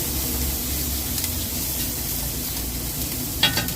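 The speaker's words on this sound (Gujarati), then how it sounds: "મસાલો ફ્રાય થઈ ગયો. આમાં ગોટી ગ્રેવી બનશે." Spice masala fries in a pan for an egg ravaiya gravy, a steady loud sizzle with stirring scrapes and a brief clatter near the end.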